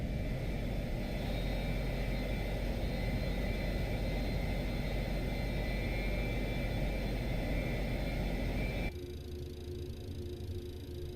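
Airplane engines in the video game Microsoft Flight Simulator 2024: a steady, loud, broadband roar with a faint whine, holding constant before abruptly shifting to a thinner, quieter drone near the end.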